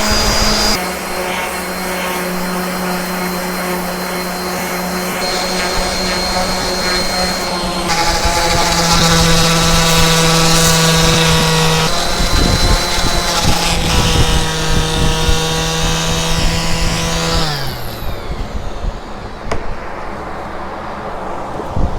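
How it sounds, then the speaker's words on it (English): A power sander whines steadily on a wooden axe handle at a work table, loud and close, its pitch shifting as pressure changes before it spins down near the end. "I'm gonna go over here to my work table and finish sanding it."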